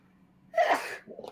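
A single sharp sneeze bursts out close to the microphone, brief and loud against a quiet room.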